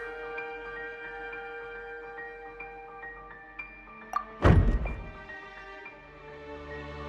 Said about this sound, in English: I seem to have accidentally knocked over a decoration.